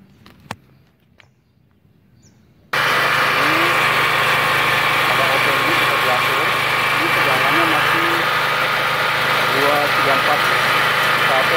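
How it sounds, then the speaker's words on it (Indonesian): A multipro generator set engine starts abruptly after a few quiet clicks, then runs loud and steady with a constant droning hum, and speech is faintly audible over the running engine. "nanti kita nyalakan dulu mesinnya nih supaya tidak tersangkut sama putaran ininya"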